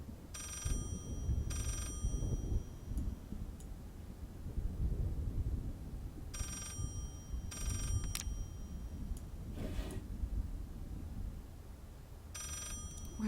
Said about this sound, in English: You don't hear that ringing? Oh, that phone.